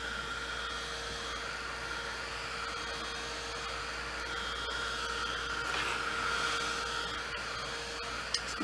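A hair dryer runs in a steady, continuous whoosh while drying chalk paste on a craft project, close and even in loudness throughout, alone without talk.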